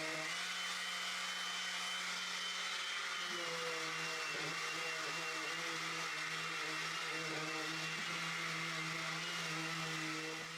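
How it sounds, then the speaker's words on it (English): A power sander works over a wooden project after the clamps come off, giving a loud, steady whirring drone that holds evenly for the whole stretch with no pauses. "I remove all the clamps and sand that too"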